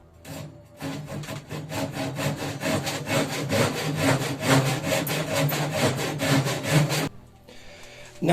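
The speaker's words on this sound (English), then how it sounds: "Now that I have cut the unnecessary wood on this side" A handsaw cuts excess wood from a guitar body in steady, rapid back-and-forth strokes that run loud and close for about six seconds, then stop, with a brief scrape near the end.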